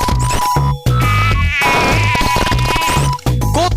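Flies buzz loudly and close in a pest control radio advert, the whine rising and falling around a steady beat and rhythmic thumps, with no voices over it.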